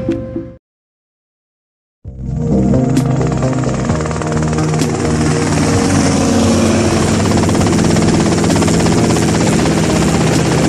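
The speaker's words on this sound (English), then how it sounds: "that's them in the chopper" A helicopter in the video game GTA Vice City starts after a brief silence, its rotor and engine throbbing loudly and steadily close by for the rest of the clip.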